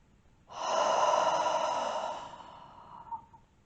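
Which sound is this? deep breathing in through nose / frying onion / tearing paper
deep breathing in through nose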